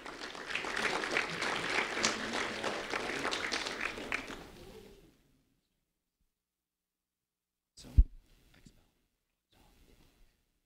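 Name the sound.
applause for a student award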